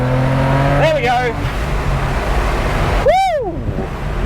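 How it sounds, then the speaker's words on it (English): A BMW with an N54 engine and turbo upgrades on Nitto NT05 tires launches down a drag strip with heavy wheel spin, sending rising and falling engine and tire howls past under steady loud road noise, with voices in the background. "Oh, so much wheel spin."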